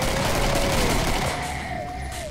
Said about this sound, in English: just shoot people with the death gun